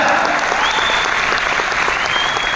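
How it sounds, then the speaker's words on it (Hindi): A large audience at a company network-marketing speech event breaks into dense, continuous applause. The clapping is loud and sustained, with a crowd murmur underneath. "मैं चाहूंगा एक शानदार तालियां होना चाहिए"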